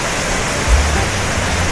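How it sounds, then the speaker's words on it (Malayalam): Clear water of Kallattupara waterfall in Kannampady, Vagamon, Idukki, flowing over rocks, a steady broadband rushing wash, close and loud with a low rumble, heard alone. "അതുകൊണ്ട് ഇങ്ങനെ പാറപ്പുറത്തോടെ ഇങ്ങനെ ഒഴുകി താഴോട്ട് പോവുകയാണ്."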